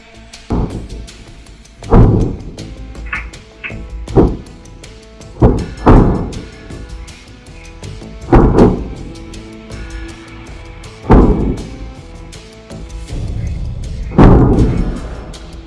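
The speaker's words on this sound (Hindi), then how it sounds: "और तभी धमाकों की आवाजें आने लगती हैं" Deep booming explosions from a Hezbollah attack thud repeatedly at night over a populated area, about eight heavy blasts at irregular intervals of one to three seconds, each with a rolling low tail.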